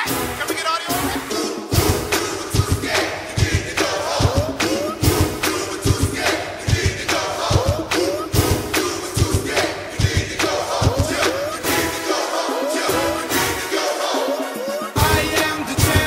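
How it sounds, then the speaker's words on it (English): A court-rushing crowd at a basketball game roars and chants loudly in a dense, rhythmic wall of voices and shouts that carries without pause throughout. "The crowd is rushing the court, and it seems like they're chanting something."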